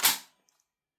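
A Tokyo Marui MWS airsoft gun fires a single sharp shot, a crisp snap that fades quickly into silence, followed by a faint tiny click.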